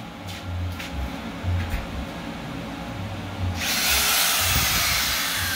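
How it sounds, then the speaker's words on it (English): A power drill fitted with a 1/16 inch bit bores into the surface of an air hockey table, whirring steadily up close with low motor pulses, then rising into a louder, brighter grinding as the bit bites in. "Make sure it's a 1/16th inch drill bit."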